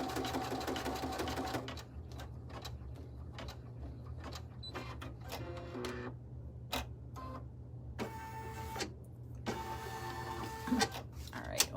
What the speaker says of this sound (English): So we are stitching the bottom of the third pocket.